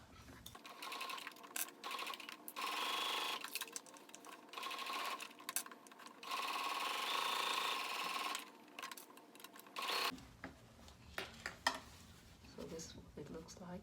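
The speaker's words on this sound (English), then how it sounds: "I'll just be stitching close to the bottom edge here" A sewing machine stitches close to the bottom edge of a drawstring bag, running in several short bursts with brief pauses between them, then giving way to softer fabric handling sounds near the end.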